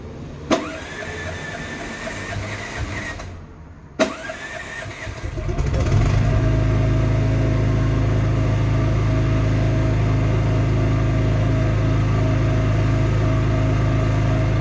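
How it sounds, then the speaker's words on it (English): A drain unblocking machine's engine starts after a couple of sharp clunks and settles into a loud, steady running drone that continues to the end. "Turn the engine on."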